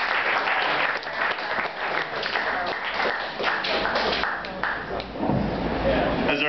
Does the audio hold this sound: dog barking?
no